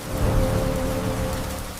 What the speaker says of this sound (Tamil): ஒரு நாள் மழை ஆரம்பித்தது.